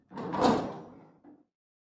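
A door swings open as a sound effect in a narrated story, a single close creaking sweep lasting about a second, followed by a brief softer knock or thud, with no voices over it.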